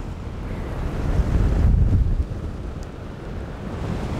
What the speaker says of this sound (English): Check out this wind, man. Look how much it's blowing. Blowing the sand everywhere.